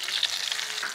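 Tilapia fish shallow-frying in oil in a pan give a bright, steady sizzle with crackling pops for about a second.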